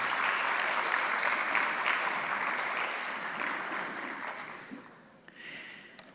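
Audience at a labor-law academic congress clapping as a doctor receives a recognition diploma, a full roomy round of many hands that gradually thins and fades out near the end, leaving a few scattered claps.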